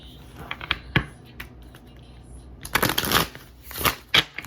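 Oracle cards are shuffled by hand in soft, papery bursts, with a quick riffle flurry near the end, close and fairly quiet.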